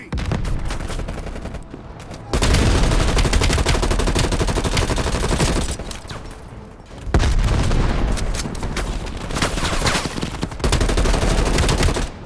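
Dense, loud anti-aircraft gunfire in the Call of Duty Black Ops Cold War campaign, a sustained roaring barrage of bursts with booming impacts and brief lulls, no talk over it.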